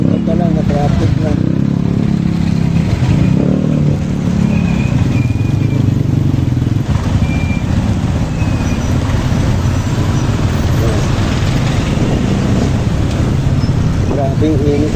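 Bumper-to-bumper road traffic with cars and motorcycles on a hot day, a steady loud rumble of engines and wind buffeting heard from a moving rider, with a person talking over it.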